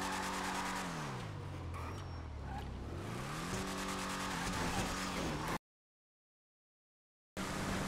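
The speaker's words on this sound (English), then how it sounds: "This car is going straight line as fast as possible." A Gasser muscle car in GTA 5 revs loudly, its engine pitch sweeping down and back up through gear changes. A sudden cut to silence follows, then the engine roar returns.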